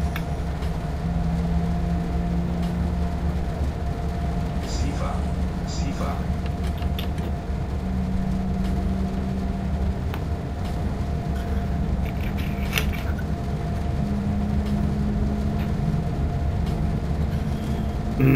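A BR 101 electric locomotive pulling an intercity train in a railway simulator, giving a steady, loud rolling rumble with faint rail clicks that runs unbroken throughout.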